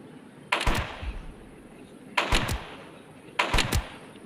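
Gunshots from the Roblox game 99 Nights in the Forest: three separate short bursts of two or three sharp cracks each, spaced over a few seconds with quiet gaps between them.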